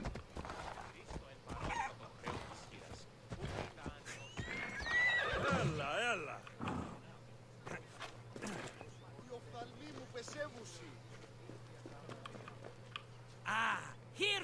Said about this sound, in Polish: Koń przyspiesza samodzielnie w terenie zabudowanym i poza terenem zabudowanym.